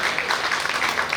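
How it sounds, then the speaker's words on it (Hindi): Audience applause at a Hindi spiritual discourse on salvation, a short dense wash of clapping at steady moderate loudness with no talk over it. "बहुत सुंदर, जोरदार तालियां तो बजा दो"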